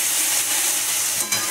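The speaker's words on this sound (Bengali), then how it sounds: "আদা রসুনটা ভালো করে ভাজা করে নেবো" Ginger and garlic paste frying with onion in a pan for a rohu fish kofta curry, a steady close sizzle with faint stirring scrapes near the end.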